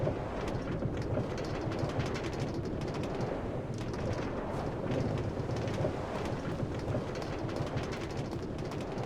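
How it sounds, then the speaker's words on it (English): Steady rain hissing in Minecraft during a railway ride, a dense continuous wash with low rumbling underneath that could be distant thunder or rolling rails, unbroken throughout. "Just a little railway trip through the rain."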